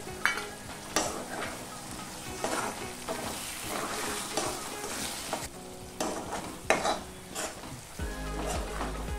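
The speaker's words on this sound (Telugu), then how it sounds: "ఇవన్నీ వేసాక ఒక 3 నిమిషాలు ఇలాగే కాసేపు మీడియం ఫ్లేమ్లో వేపుకోవాలి" Schezwan chutney with salt, sugar, chilli powder, pepper, vinegar and ketchup fries and sizzles in a pan over medium flame, with scraping stirs and occasional clinks of a spoon against metal, steady and close.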